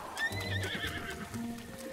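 A horse in The Legend of Zelda: Breath of the Wild lets out a clear whinnying neigh over soft clip-clopping hooves, with game ambience underneath and no talk.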